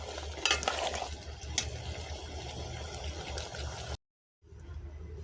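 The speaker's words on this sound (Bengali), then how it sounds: "এদিকে সিমও কষানো হয়ে যেতেছে।" Flat beans frying down in a pan: steady close sizzling with stirring scrapes and a low kitchen hum, cut by a short silence before a quieter stretch.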